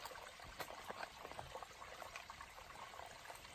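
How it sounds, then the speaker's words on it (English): Filtered water trickles and drips steadily into a 1 liter bottle, a faint, close, continuous liquid patter with no talking. "can you see the water dripping out?"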